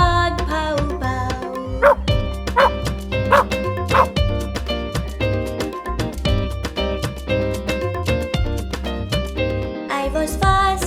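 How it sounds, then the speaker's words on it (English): Repeated dog barks and yips sound over a bouncy children's song backing, arriving in quick rhythmic bursts that sit loud and up front in the music. "The doggy came and woke me up, bark, pow, pow."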